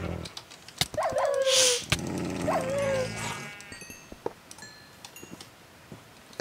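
Dogs from dog spawners in modded Minecraft 1.5.2's Twilight Forest bark in short yelping bursts, two or three barks close together, with animal-like cries and clicks from the game and someone talking at times.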